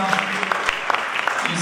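Applause from an audience at a school Black History Month assembly, a dense steady patter of clapping hands that holds at an even level through the short stretch, fairly close and continuous.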